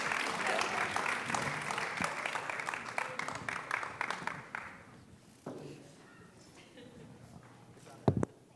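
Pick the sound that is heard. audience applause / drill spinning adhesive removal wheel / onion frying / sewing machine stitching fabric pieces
audience applause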